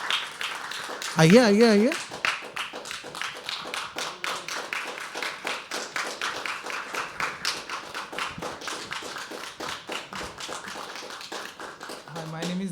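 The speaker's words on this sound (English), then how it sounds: "can we start clapping for the next artist?" Audience applause at a live poetry open mic, a steady patter of many hands clapping through the whole stretch while a host speaks over it and calls the next performer to the stage.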